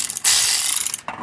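A ratchet clicks rapidly and loudly close by as it tightens transfer case bolts on a Jeep XJ Cherokee, one sustained burst of ratcheting followed by a brief pause and a restart.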